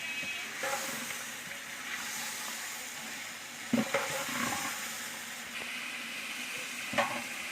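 Chicken pieces fry in a pan for biryani, giving a steady close sizzle with occasional clinks and scrapes of stirring.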